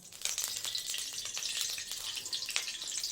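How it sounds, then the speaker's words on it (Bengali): White mustard oil heating in a wok, a dense, bright, continuous sizzle and crackle heard up close with scattered sharper pops, no voices. "কড়াইতে সাদা সর্ষের তেল দিয়ে দেবো"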